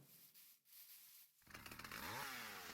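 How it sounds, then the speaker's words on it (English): In modded Minecraft, a mantis spawner gives off a chainsaw-like noise: faint quiet ambience, then a sudden rough buzzing drone that surges in and keeps revving loudly to the end. "And I'm hearing noises that sound like a chainsaw."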